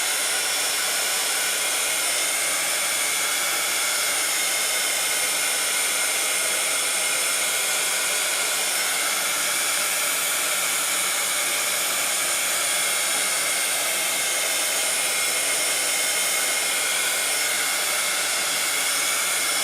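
A hair dryer blows steadily on watercolor paint on a handmade card, a loud, even whoosh of rushing air that runs unbroken from start to finish with no talking.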